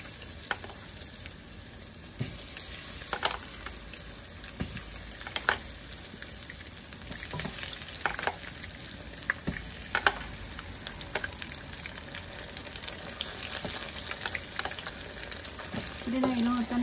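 Mushrooms frying in a pan, a steady soft sizzle with occasional clicks of stirring, close and unbroken throughout.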